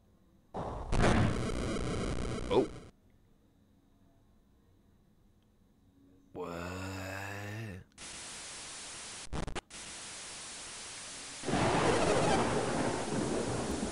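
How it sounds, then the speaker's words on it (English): Thunder effects from the Golden Sun game on Game Boy Advance come as harsh, static-like bursts of noise that start and stop abruptly, separated by quiet gaps and a short tonal sound effect. "good job trying to actually make tangibly good sounding thunder effects"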